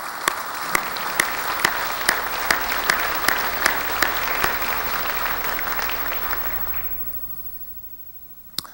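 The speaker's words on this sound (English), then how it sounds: "a round of applause for everybody who's participated in this" An auditorium audience at a university staff forum claps for participants, a dense steady applause with sharp individual claps standing out, fading away over the last seconds to near quiet.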